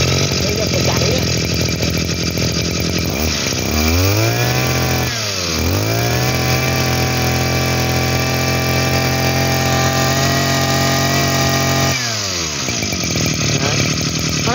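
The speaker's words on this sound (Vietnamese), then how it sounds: "Nổ máy cho bác xem." A used Japanese grass cutter's small two-stroke engine loud and close, revving up and dropping back twice before settling into a steady high-pitched run, then one more dip near the end.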